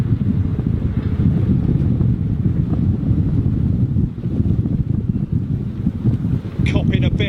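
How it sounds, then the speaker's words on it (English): Strong side wind at Heathrow Airport buffets the microphone in a continuous loud rumble, close and unbroken, with a faint voice briefly under it near the end. "Copping a bit of side wind."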